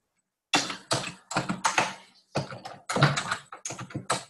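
Fast clicking keystrokes on a computer keyboard while entering text into a flyer design, a steady run of close, crisp taps broken by brief pauses.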